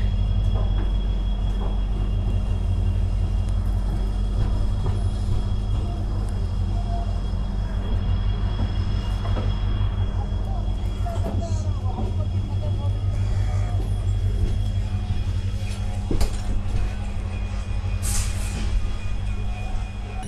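The Yesvantpur–Mangaluru Gomateshwara Express (train 16575) rumbles steadily through forest, with a constant low drone and rattling carriages, continuous and fairly close throughout.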